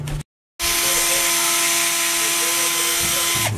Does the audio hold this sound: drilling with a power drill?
yes